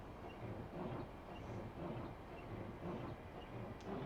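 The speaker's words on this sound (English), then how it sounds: "I'm going to put a large brake application on to get our speed down." A steady rumble of a Class 395 high-speed train braking hard, with continuous low roar and faint rail clatter, no voices.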